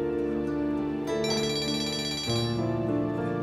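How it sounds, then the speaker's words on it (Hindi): A mobile phone rings with an incoming call, playing a bright melodic ringtone that shifts pitch partway through, clear and close with no talk over it. "मम्मी का फोन आ रहा है"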